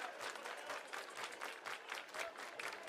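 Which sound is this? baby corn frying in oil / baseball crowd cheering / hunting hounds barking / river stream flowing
baseball crowd cheering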